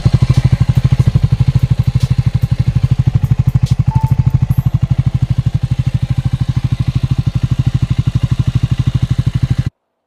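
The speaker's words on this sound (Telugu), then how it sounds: "ఈ బైక్ ఎగ్జాస్ట్ సౌండ్ విందాం ఒకసారి" A Triumph Scrambler 400X idles close by, its exhaust throbbing in an even, rapid, loud pulse that holds steady for about ten seconds before cutting off abruptly.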